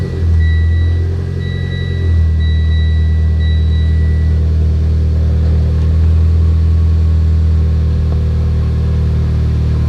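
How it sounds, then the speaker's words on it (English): Mitsubishi Lancer Evolution X engine firing up and running, a loud steady low rumble with a brief higher whine early on, held near and continuous without talk. "Turn the car on."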